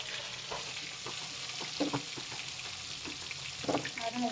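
Stuffed eggplants sizzle in hot oil with cumin and red chili powder, a steady frying hiss punctuated by occasional scraping stirs of a spatula, with no talk.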